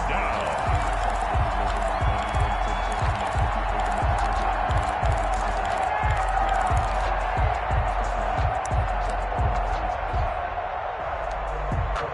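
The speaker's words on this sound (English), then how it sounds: "the crowd getting into it as we come up on a big 3rd down" A football stadium crowd roars steadily during a big third-down play, with rhythmic thumping claps or stomps running beneath the din and a voice talking over it.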